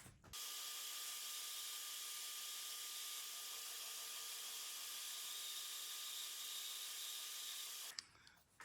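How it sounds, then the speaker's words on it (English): A bandsaw trims excess wood off a guitar neck, giving a continuous steady whine and rushing hiss for several seconds after it starts up, then cutting off abruptly, close and without talk. "I'm going to take off the excess on the neck with the bandsaw"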